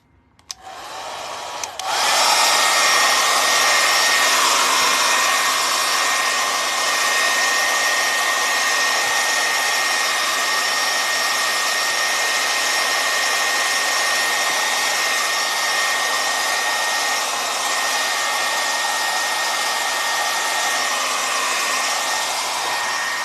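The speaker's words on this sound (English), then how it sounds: "I have to hit this with a blow dryer" A blow dryer switches on after a brief moment and runs loud and steady with a constant high whir, uninterrupted to the end.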